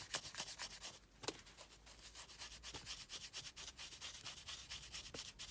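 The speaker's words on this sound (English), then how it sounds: "get the sweat and grime out of the dimples" Wet cloth scrubbing sweat and grime from the dimpled surface inside a Renault Megane: soft, close, rhythmic rubbing strokes in quick succession, faint and continuous with a few sharper swipes.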